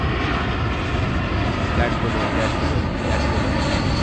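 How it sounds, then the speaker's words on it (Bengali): A JetBlue passenger jet lands at an airport a few miles off, a steady broad engine roar and rumble that holds evenly throughout, with no clear words spoken. "নামতে দেখেন বিমানটা কত বড়"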